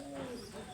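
A pigeon coos softly at close range in a short, steady low murmur, with faint background noise around it.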